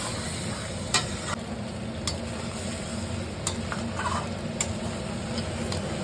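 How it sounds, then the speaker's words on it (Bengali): A spice paste for a Bengali meat curry fries and is stirred in a pan, giving a continuous close sizzle. Light spatula clicks and scrapes sound every second or so, and no one speaks. "মশলাটাকে একদম লাল করে ভেজে নিতে হবে, যাতে কাঁচা কাঁচা গন্ধ না বের হয়। আমি এটাকে ভালো করে ভেজে নিচ্ছি।"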